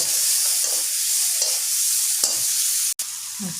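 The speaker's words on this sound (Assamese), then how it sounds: "এতিয়া মই এইখিনি ভালদৰে ভাজি লওঁ" Ingredients being stir-fried in a pan for a dry chicken dish with mustard greens, giving a steady close sizzle broken by repeated scraping stirs of the spatula, with no talking.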